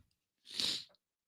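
A single sharp sneeze bursts out close to the mic during a studio sports radio show, a brief breathy blast that rises and cuts off in under half a second, alone in otherwise quiet air.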